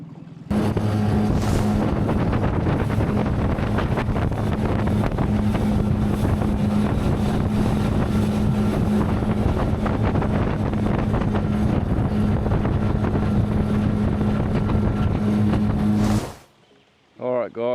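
A small motor dinghy runs on the Hawkesbury River near Apple Tree Bay, a steady outboard drone with heavy wind buffeting on the microphone, loud and close throughout before cutting off abruptly at the end.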